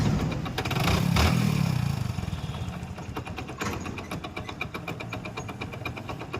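An unusually noisy Hero Splendor Pro motorcycle engine runs steadily, swelling briefly into a louder rev near the start before settling back into an even, clattering idle.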